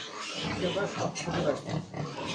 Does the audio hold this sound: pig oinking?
yes